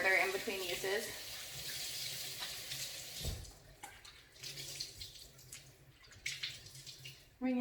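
Running water splashes as a cloth is scrubbed with dish soap and wrung out at a sink, with wet rubbing and squelching close by. Intermittent drips and trickles follow, and a voice is faintly present.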